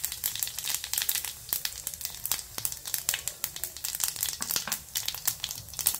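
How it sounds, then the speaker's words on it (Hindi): Cumin seeds crackle and sizzle in a hot pan for tempering while making donde chutney, a steady close frying hiss with sharp scattered pops, no voices. "अब पैन में सबसे पहले डालेंगे जीरा"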